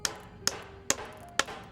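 Hammer blows nail boards over the doors and windows of a farmhouse, four sharp evenly spaced knocks at close range with faint background noise between.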